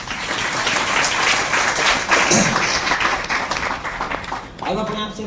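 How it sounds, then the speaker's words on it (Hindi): An audience at a motivational network marketing seminar claps for Amit in a dense burst of applause that fills the room, with voices and cheering mixed in and a speaker's voice returning near the end. "अमित भाई के लिए एक बार जोरदार तालियां।"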